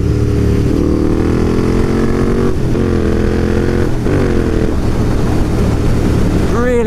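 A Royal Enfield Interceptor 650 motorcycle engine rumbles loudly and steadily, with short throttle blips as the rider downshifts, rising and falling in pitch over a continuous close drone.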